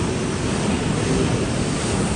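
The pipe blower on an OC12 paper cup machine blows hot air in a loud, steady, unbroken rush of hiss that holds even from start to finish.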